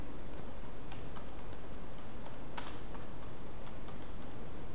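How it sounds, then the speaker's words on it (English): Computer keyboard typing while entering a product name in a form, a run of soft, quick key clicks close by over a steady background hiss, with no talking. "Type here product name"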